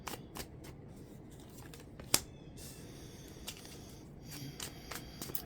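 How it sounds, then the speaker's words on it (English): Tarot cards being shuffled by hand, quiet riffling and flicking with scattered soft snaps and one sharper slap, close and faint with no talking. "That did try to pop out when I was shuffling."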